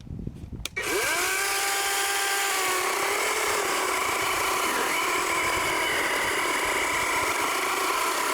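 A Wild Badger 12-inch battery chainsaw revs up after a brief start and cuts steadily through wood, its motor whine holding loud and close with a gritty cutting rasp, pitch dipping slightly as it bears down.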